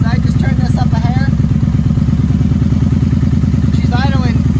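A 1994 Honda Magna motorcycle engine idles steadily with the choke off, a close, even low rumble running throughout, with someone talking briefly over it near the start and end.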